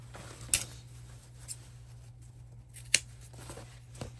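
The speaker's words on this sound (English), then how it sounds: "now we're going to trim all the corners." Scissors snip the fabric corners of a sewn tote bag, giving a few sparse, quiet clicks and cuts over a low steady hum.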